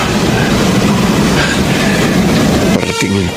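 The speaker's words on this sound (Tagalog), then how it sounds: "parating yung tren" A train rumbles steadily closer on its rails, loud and continuous throughout, with a brief rattling clatter of wheels near the end.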